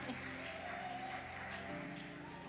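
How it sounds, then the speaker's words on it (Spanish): Audience at a church festival applauds, a thin steady patter of clapping over a sustained musical tone, faint and distant in a large space. "Denle un aplauso, porque él puso una cara como de preocupado."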